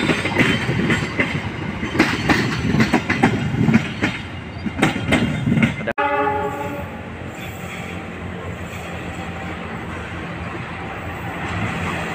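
A train rumbles past close by with rhythmic clattering of wheels over rail joints, then fades into a steady rolling hum with faint squeal.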